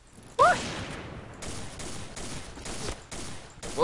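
Automatic gunfire in the shooting video game Point Blank rattles out in several loud, repeated bursts separated by brief pauses.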